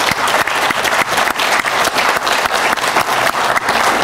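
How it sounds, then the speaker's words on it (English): An audience claps steadily through a round of applause at a university announcement event, dense and fairly loud with no voices over it. "So if you could join me in a round of applause so we can put it on the record"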